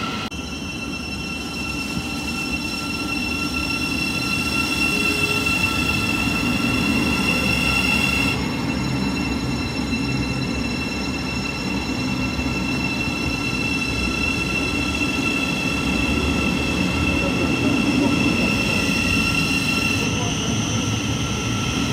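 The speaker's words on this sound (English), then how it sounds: "you'll see some more trains in the dark" Trains pass through St Albans City station on the Midland Main Line in a long, loud, continuous rumble of wheels on rail, with metallic squealing and steady high tones throughout.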